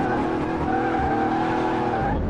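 Car tyres squeal on a drag strip in Car Mechanic Simulator, a steady screech blended with the loud, continuous roar of the engine for a couple of seconds, with no talk over it.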